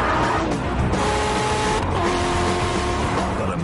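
VW Scirocco TDI diesel hatchback driving fast, a steady loud engine drone with rising and falling tonal whine and some tyre noise, continuous and close throughout.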